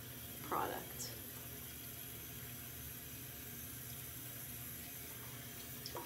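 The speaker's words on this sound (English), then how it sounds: "I have the hot water on" Hot water runs steadily from a bathroom tap into a sink, a soft continuous wash of flow with a brief splash near the start.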